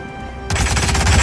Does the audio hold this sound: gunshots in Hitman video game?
yes